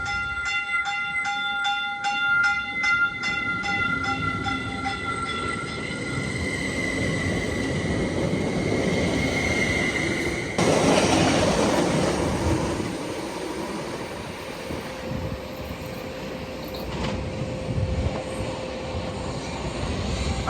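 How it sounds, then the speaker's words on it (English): A train passing close by, its horn blaring in long sustained chords before giving way to a loud rumbling roar of wheels and cars that swells, then settles into a steady clatter with a later tonal whine. "we're just in time to catch a train coming through."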